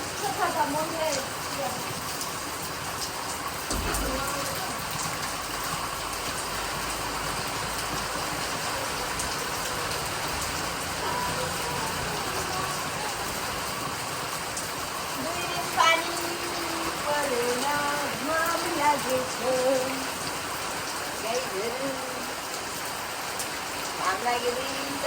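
Steady rain patters on surfaces outdoors in winter. A continuous, soft hiss runs throughout, with a few brief splashy accents, while voices talk quietly in the background.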